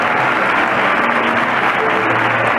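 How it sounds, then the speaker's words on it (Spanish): An audience at a fair coronation ceremony gives loud sustained applause, a dense steady roar of clapping that carries on without pause and with no speech over it. "Un aplauso muy fuerte para ella."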